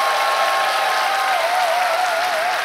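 Studio audience applause at a televised Korean dance contest, loud and steady throughout the short stretch, with a sustained tone running beneath the clapping.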